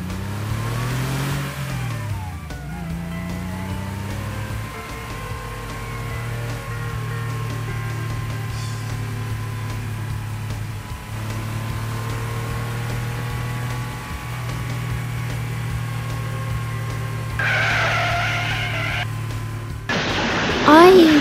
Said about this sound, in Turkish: Sarı ve kırmızı araba yarışıyorlar.